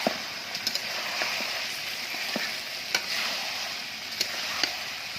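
Meat stirred in a frying pan as it cooks down, a steady close sizzle with occasional sharp scrapes and clicks of a utensil against the pan.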